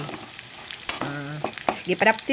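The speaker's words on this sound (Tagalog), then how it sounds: "ito nagisugdan og gisang ato ang mga panakot like ahos and sibuyas nga bombay" Garlic and onion sauté in a hot pot, a steady frying sizzle with a sharp hiss flaring partway through, broken by a few stirring scrapes and small clinks near the end.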